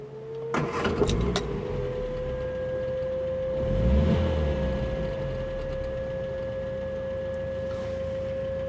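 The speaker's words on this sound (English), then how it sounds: "you've got that 1594cc engine in this" A 1960s Vauxhall Victor FC with its 1594cc engine runs quietly at a steady idle in neutral, a faint even hum with a brief swell midway and a few clicks near the start.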